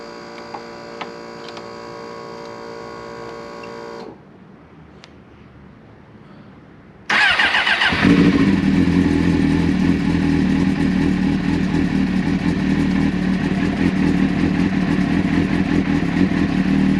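A 1996 Suzuki GSX-R 750 SRAD track bike with a hot-start problem cranks over with a steady whirring hum, goes quiet briefly, then catches and fires into a loud, continuous close-up engine roar that runs to the end.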